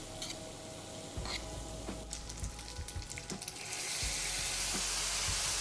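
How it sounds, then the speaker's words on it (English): Spaghetti all'assassina cooking in a frying pan is stirred, with a steady sizzle and intermittent scraping clicks, growing louder and brighter toward the end. "They're almost ready, so let's give them a stir."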